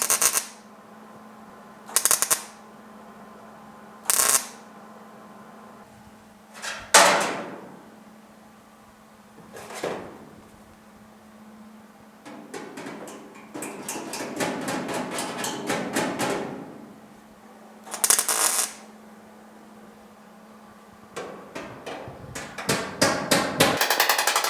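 A MIG welder tack-welds a steel patch over pitted rust holes on a GTO, giving sharp separate bursts and then a longer crackling run of quick tacks, loud and close.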